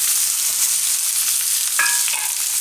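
Mushrooms, onion and capsicum stirred in a hot pan for a Gujarati mushroom shaak, giving a steady close sizzle with a few soft scraping strokes of a spoon near the end.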